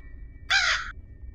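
A single crow caw from the horror video game Granny, loud and clear over a low background hum, lasting under half a second.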